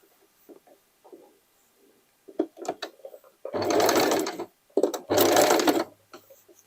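A sewing machine stitching denim dress pieces, running in two sustained bursts of rapid mechanical whirring, preceded by scattered handling clicks and short taps of the machine.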